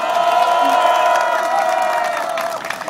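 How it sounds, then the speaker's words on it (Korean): A political rally crowd for a local council candidate cheers and applauds in a loud, sustained roar, with shouted voices and whoops riding over a continuous wash of clapping. "여러분 박수 한 번 주시길 바랍니다"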